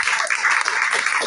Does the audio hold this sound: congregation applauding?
yes